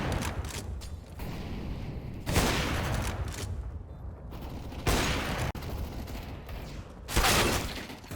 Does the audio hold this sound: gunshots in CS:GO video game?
yes